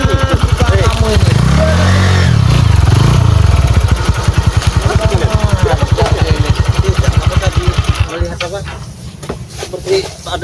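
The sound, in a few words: motorcycle engine running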